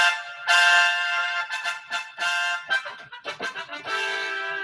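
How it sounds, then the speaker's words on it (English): Bright, brassy synthesizer tones play a short phrase of sustained and clipped notes, fairly loud and close, with no voices. "That is the sound of a brass,"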